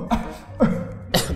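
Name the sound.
coughing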